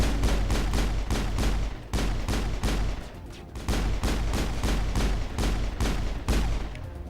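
Sustained gunfire in the Mass Effect video game: loud, dense bursts of rapid shots in repeated volleys with brief pauses, heavy low-end thump, no voices over it.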